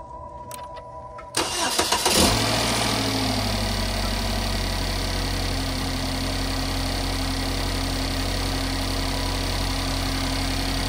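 A car engine cranks and catches after a brief mechanical rattle, then settles into a steady, close idle that rumbles on evenly, with the fuel pump relay about to be pulled.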